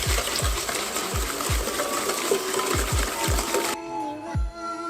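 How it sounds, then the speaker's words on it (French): Eggs with sugar and a pinch of salt are stirred briskly in a bowl, a fast repeated swishing and tapping of the whisk or spoon, close and rhythmic, quieting just before the end. "vous pouvez commencer déjà par remuer."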